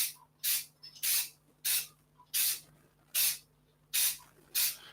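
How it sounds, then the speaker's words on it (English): Spray paint hisses out of a can in eight short, even bursts about half a second apart, with brief quiet gaps between them and a faint steady hum underneath. "this is the poor man's way of spraying"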